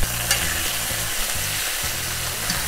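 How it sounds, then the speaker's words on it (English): Harissa chicken pieces fry in a pan with a loud, dense, continuous sizzle and faint stirring or scraping knocks, close up with no talking. "These have been going 5 minutes, so I'm gonna flip them over."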